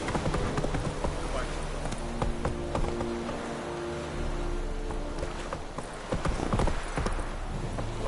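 Horse hooves clip-clop at a steady gallop in The Witcher 3, loud and continuous, with a short neigh and a voice speaking over the hoofbeats.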